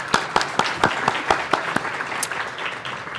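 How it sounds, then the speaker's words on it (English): Sparse audience applause for panelists at an ethics chapter meeting, a handful of distinct, close claps with an uneven rhythm over light background clapping. "Let's give another round of applause for our panelists."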